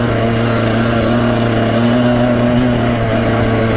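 A Yamaha YZ125X dirt bike engine runs steadily close by as the rider slips the clutch in a higher gear, a loud buzzing two-stroke drone with a slight rise in pitch midway.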